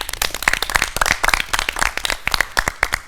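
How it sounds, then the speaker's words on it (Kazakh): A crowd at a televised quiz final breaks into steady applause, dense overlapping hand claps running continuously and fairly loud without a break. "Керемет қолдау үшін жанкүйерлерге рахмет деп бір қол шапалақтап қойсақ."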